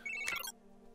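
Short electronic phone ring in the video game Spider-Man: Miles Morales, a single bright, faint chirping tone lasting about half a second before dropping to a low background hum.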